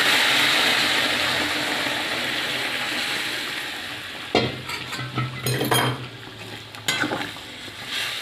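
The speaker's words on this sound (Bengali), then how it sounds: "এবারে পরিমাণ মতো গরম জল আমি ঝোলের জন্য ব্যবহার করছি" Hot water is poured onto fried spice paste in a pan for a catla fish curry, giving a loud, hissing rush of sizzle that gives way to irregular scraping and stirring knocks close by.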